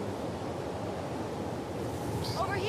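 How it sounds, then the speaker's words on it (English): Steady, rushing wind blows in the video game The Last of Us Part 2, a constant broad gust with a brief tonal in-game sound near the end, while a person talks over it. "There's a lot of wind."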